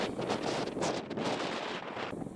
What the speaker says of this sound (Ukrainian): Неможливо знімати при такому вітрі.